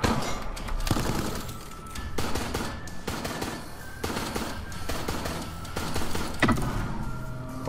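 Rapid automatic turret fire from Resident Evil Resistance game combat, a steady dense stream of loud gunshots with periodic sharper bursts throughout, no clear voices.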